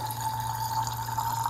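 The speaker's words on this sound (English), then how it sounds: "Then you are going to fill up to the 23 line, that's the top line on the square mixing bottle, with deionized water." Deionized water runs into a square plastic mixing bottle for a chloride test, a soft, steady trickle with a faint ringing tone throughout.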